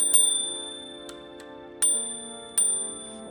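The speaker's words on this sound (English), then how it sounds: "It does also feature a bell." A small Bugatti electric scooter handlebar bell dings three times, bright metallic rings that each fade slowly in a quiet setting.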